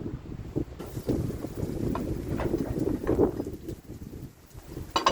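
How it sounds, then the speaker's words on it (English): Strong wind buffets the microphone in heavy rumbling gusts on a cold day, steady throughout with a few sharper bursts near the end. "it is really windy"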